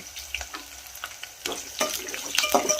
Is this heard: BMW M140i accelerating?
no